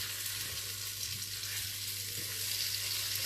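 Ten grams of butter melt in a frying pan with a soft, steady sizzle. The hiss is quiet, close and continuous throughout, with no voices.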